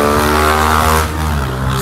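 AtomGP1 mini GP bike engine revving hard nearby, a loud sustained buzzing drone with strong harmonics, easing slightly partway through, heard alone with no talk.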